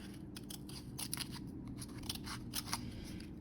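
Small scissors snip paper for a tiny gift in a quick series of crisp, close cuts, several clustered snips with brief pauses, quiet and alone.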